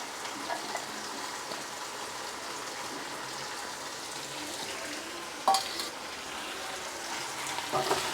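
Carrot added to vegetable biryani frying in a pot, a steady soft sizzle and hiss throughout with a sharp clatter of stirring around the middle, no voices.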